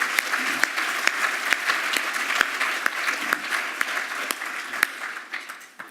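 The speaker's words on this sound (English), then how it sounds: "let's still give him a big round of applause" An audience at a keynote conference applauds steadily, a dense wash of clapping with a few sharper nearby claps, fading slightly toward the end.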